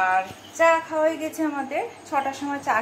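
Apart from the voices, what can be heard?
None of the usual background noises is heard.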